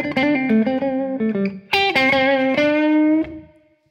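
Electric guitar plays a blues lick in the Hyde Park manner: a run of picked single notes and bends, then sustained ringing notes with slight distortion that fade out at the end, loud and close with no talking.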